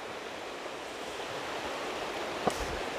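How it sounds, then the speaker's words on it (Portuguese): A creek flows through a snowy landscape, making a steady broadband rush of water with some wind noise. A brief soft click comes near the end, and no one speaks. "Vamos só filmar aqui o riacho"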